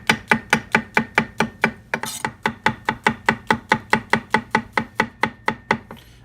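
Knife chopping thin slices of mushrooms on a cutting board for a veggie pizza, a steady run of about two dozen crisp, evenly spaced cuts, close and clear with no talk.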